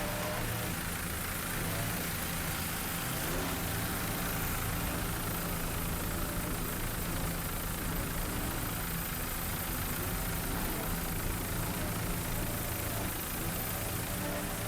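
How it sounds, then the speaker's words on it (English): A 29-foot Fountain race boat with a single 500 hp Mercury inboard engine roars at an offshore powerboat race at Daytona, a loud, dense, continuous engine drone filling the whole stretch without letup. "Powered by one 500 horsepower Mercury inboard."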